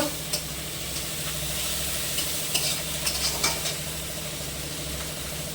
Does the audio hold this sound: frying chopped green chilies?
yes